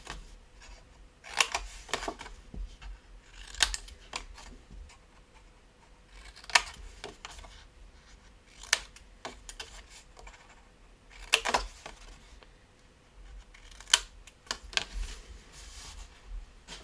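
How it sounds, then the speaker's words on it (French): Scissors snip paper tabs at an angle for a decorated tissue box: crisp, close cuts that come in small clusters with short pauses between them, and no talking. "je vais couper mes languettes en biseau"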